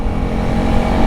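A Honda CRF300L motorcycle cruises at 70 mph with the engine revving around 6,500 rpm, a loud, steady, close engine drone mixed with wind rush.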